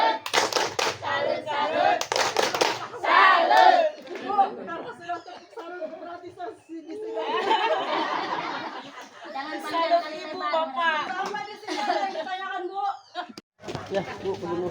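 A group of women at a community family-development meeting clap the rhythmic 'tepuk salut' routine in short, sharp bursts, mixed with lively chatter and laughter between the rounds.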